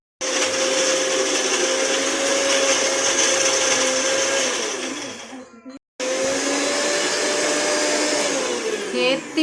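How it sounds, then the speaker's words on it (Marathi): An electric mixer grinder whirs loudly at close range while grinding green chillies with roasted sesame, running in two long bursts separated by a short pause. "आता मिक्सरला पटकन वाटून घेते ती।"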